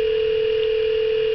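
An IP Office 1416 desk phone sounds a steady electronic tone, loud and unbroken for a moment, with no talk over it.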